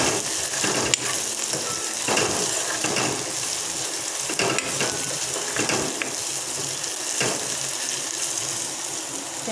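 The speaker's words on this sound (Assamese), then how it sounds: "এতিয়া মোৰ আদা নহৰু পিঁয়াজ ভজা হৈ গৈছে।" Ginger, garlic and onion sizzle in a pan in a steady, moderately loud fry, with periodic stirring scrapes coming through at regular intervals.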